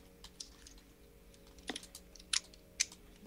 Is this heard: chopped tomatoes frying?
no